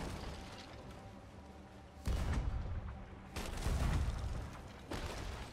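Ship cannons fire in Sea of Thieves, with heavy booming blasts arriving in separate bursts over constant sea and game ambience, loud and close with no talk.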